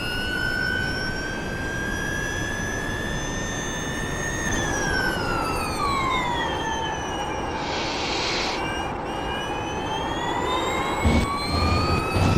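A Porsche Mission R electric race car driven hard in the iRacing simulator at Watkins Glen, with a continuous high motor whine that climbs, dips and rises again as the throttle changes, steady and loud with no talk.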